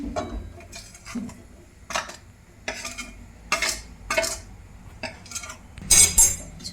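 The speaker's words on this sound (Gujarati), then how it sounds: "હવે આપણે એમાં લોટ નાખી દઈશું" Ghee and flour being mixed in a pan while making adadiya, with a run of separate clinks and scrapes of a utensil against the pan, spaced irregularly and fairly close, with no talking over them.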